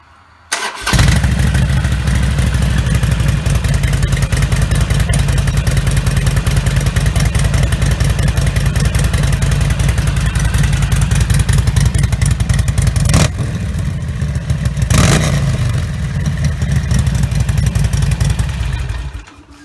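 A motorcycle fitted with a Vance and Hines quiet baffle exhaust fires up and idles with a loud, steady throbbing rumble, broken by two sharp revs later on, close and with no talking.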